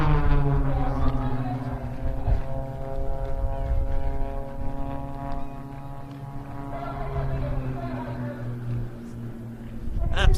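Blades aerobatic display aircraft pulling up into the champagne split at the Bournemouth Air Festival: a steady, loud propeller-engine drone whose pitch rises and falls as the planes climb and separate, with no break in the sound.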